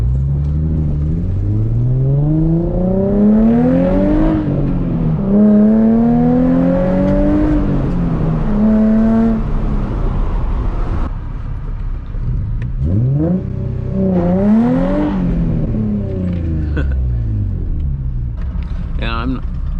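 A car engine revs up and down repeatedly at a night car meet, rising and falling whines with a deep rumble, close by, with a brief lull in between.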